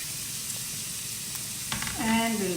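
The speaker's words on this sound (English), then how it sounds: "Now we'll add the carrots. Add it to this hot, spicy, seedy mixture." Carrots sizzle and fry in a hot, spicy, seedy mixture with a steady, close crackle, and a voice begins talking near the end.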